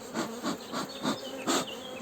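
Honey bees in a hive accepting a newly introduced Buckfast queen buzz close and loud in rhythmic pulses, about five or six swells in quick succession.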